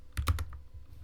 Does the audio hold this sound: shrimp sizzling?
no